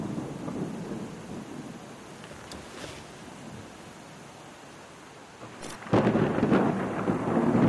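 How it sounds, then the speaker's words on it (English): Low thunder rumbles beneath steady rainfall in the video game Papers Please, then the downpour suddenly swells louder and heavier near the end. "a night with heavy rain"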